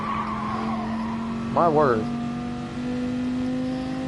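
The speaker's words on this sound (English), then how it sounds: "that is the sound of these engines" Race car engines droning at a Gr4 endurance race at Big Willow, steady distant engine tones with a brief tire squeal, under a commentator's speech.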